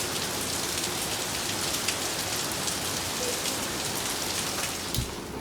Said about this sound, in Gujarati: વરસાદ મસ્ત છે, થોડોક બંધ થઈ ગયો